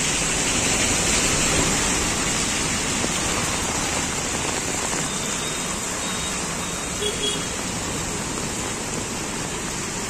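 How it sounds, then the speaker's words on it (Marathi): Heavy rain pours steadily in Virar, a continuous dense hiss of downpour on the streets that holds at constant loudness with no letup. "आज सकाळपासून जो पाऊस चालू झाला आहे मित्रांनो थांबण्याचं नाव नाही घेत आहे बघा"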